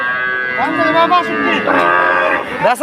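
A dairy cow with her calf at a Sunday cattle market in Choumunirhat moos loudly and close, one long drawn-out call that wavers in pitch and ends with a rising grunt.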